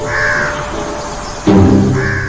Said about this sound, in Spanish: Los cuervos acosan a los pigargos sin tregua.